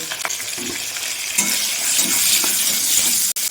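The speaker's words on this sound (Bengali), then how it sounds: "তেলও গরম হয়ে গেছে, বেগুনগুলো আমি প্রথমে ভেজে নেব" Eggplant pieces fry in hot oil in a wok with a little salt and turmeric, giving a constant close sizzle broken by scraping stirs and a few faint metal clinks, with no talking.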